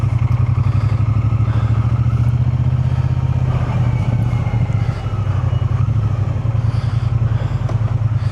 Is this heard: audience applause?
no